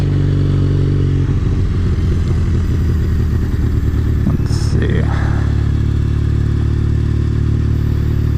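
Blacked-out Triumph Bonneville motorcycle cruising, a loud steady engine rumble with a brief throttle swell midway, close up and continuous.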